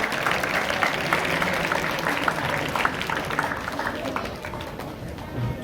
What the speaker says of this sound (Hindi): एक बार जोरदार तालियां बजाइए सभी मेहमानों के स्वागत में।